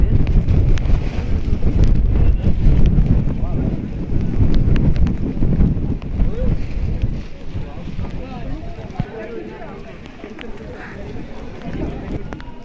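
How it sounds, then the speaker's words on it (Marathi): Strong wind buffeting the microphone in loud rumbling gusts on a hilltop fort near a temple in the monsoon, easing somewhat later, with a person talking underneath. "वारा खूप आहे"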